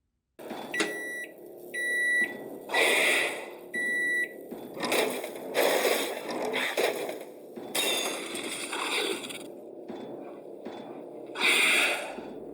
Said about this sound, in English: When the microwave goes off, the raptor rushes it and attempts to destroy it.